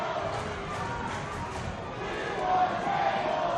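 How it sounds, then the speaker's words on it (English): Wrestling fans at a live independent show chant together, a dense sustained crowd roar that swells slightly near the end. "When the fans chant for tables, that's never a good sign."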